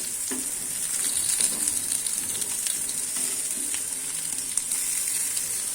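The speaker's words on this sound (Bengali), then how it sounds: "এই দেখো কাঁকরোল ভাজা হচ্ছে" Teasel gourd (kakrol) slices fry in mustard oil with a steady, bright crackling sizzle close by, dotted with small pops and a few light stirring sounds throughout.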